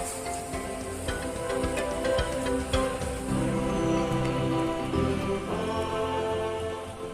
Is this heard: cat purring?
no